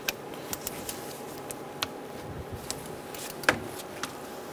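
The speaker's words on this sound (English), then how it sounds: "we are going to torque our pulley bolts with a 10mm socket to" A 10mm socket on a ratchet torques the water pump pulley bolts of a 2014-2018 Subaru Forester, giving a string of quiet, irregular clicks and ticks with one louder clack near the end.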